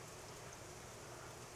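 Hail falling outside, a dense, continuous hiss of small impacts with no distinct individual hits, steady and fairly faint throughout.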